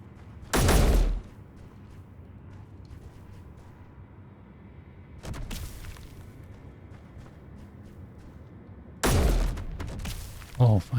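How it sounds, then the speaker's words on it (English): Three loud bursts of weapon fire in the space survival game Space Engineers, separated by a few seconds of low, steady background rumble, the last burst longer and followed by a brief second crack. "Not even sure if I'm shooting at the right thing."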